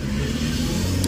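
A Maruti Eeco's engine hums steadily from inside the car while driving, a low even drone with road noise and no talking.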